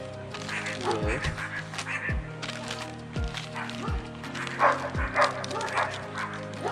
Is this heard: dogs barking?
yes